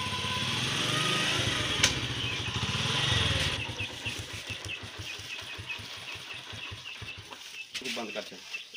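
A motorcycle engine idles and putters in a rhythmic low chug near a farmyard, with chickens clucking and people talking throughout, the engine louder at first then fading to a softer pulsing.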